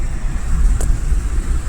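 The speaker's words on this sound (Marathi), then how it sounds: "ते बघा ट्रॅफिक बघा," Road traffic on a busy highway toward Mumbai, a continuous low rumble of passing cars and vehicles close by, with a brief hiss midway.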